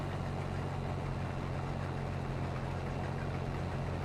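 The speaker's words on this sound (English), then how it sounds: "We should be seeing a tractor any minute." Tractor engine idling steadily at the edge of a harvest field in Germany, a low continuous rumble that holds even and fairly close throughout with no voices.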